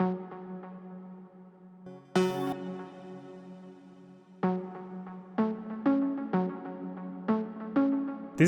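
Low synth layer in a progressive house track, a richer, darker tone playing only the lower notes, moderately quiet sustained tones with rhythmic re-triggered stabs and no talking.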